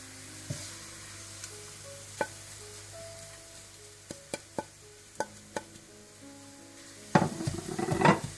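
Onions fry brown in a pot for chicken biryani, a soft continuous sizzle broken by several sharp metallic clinks of a spoon against the pot, then a burst of louder stirring and scraping at the end.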